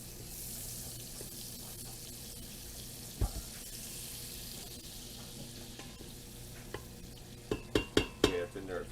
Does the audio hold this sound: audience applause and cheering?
no